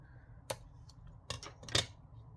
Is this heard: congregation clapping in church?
no